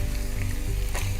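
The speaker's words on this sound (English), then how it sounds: "while the ham is firing away behind me" Ham sautéing in a pan gives a steady, close sizzle and frying crackle with a low hum underneath, continuous and even with no talk.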